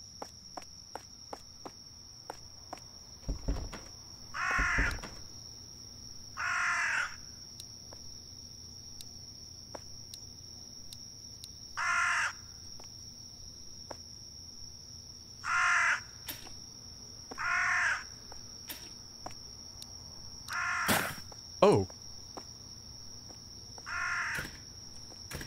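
A crow in a Chilla's Art bathhouse horror game caws repeatedly, roughly eight harsh calls spread across the clip over a steady high insect-like drone, with occasional soft footsteps and clicks.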